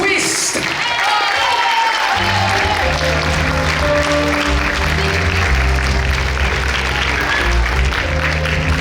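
Loud, sustained audience applause at a school dance festival awards concert, steady clapping that fills the hall while music plays underneath.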